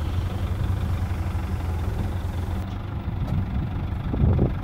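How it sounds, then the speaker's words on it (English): A Land Rover V8 that sat in a field for 12 years runs with a low, rough, continuous rumble, fairly close and steady with slight swells near the end. "The engine's running"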